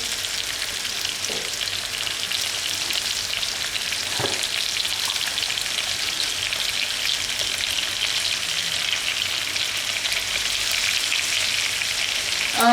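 Turmeric sizzles in hot ghee for a paneer and vegetable dish, a loud, steady, close frying hiss with faint stirring scrapes, running unbroken for the whole stretch without any voices.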